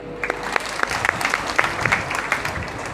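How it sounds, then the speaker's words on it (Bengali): A crowd claps loudly and continuously, many hands close by in a dense, sustained burst of applause, at a Bhagavata recitation gathering. "একটা জোরে হাততালি দিন"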